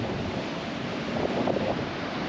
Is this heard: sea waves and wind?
yes